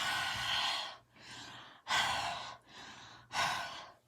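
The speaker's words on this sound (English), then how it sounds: "And then we're going to breathe on it." Three forceful breaths huffed onto artwork, each a close, breathy rush with softer inhales between them, in a steady rhythm.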